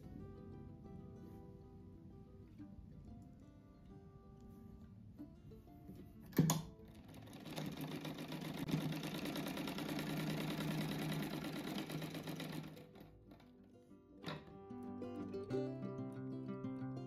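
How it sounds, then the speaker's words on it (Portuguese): A sewing machine stitches small fabric patchwork squares together in pairs for a rug, with a steady close whirring run of about five seconds between quieter handling and a couple of sharp clicks. "Primeiro eu costuro esses quadrinhos aqui de dois em dois."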